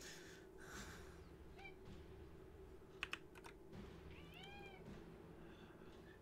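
Hungry cats meow several times, faint and close by, in a quiet room alongside soft clicks of computer keyboard typing.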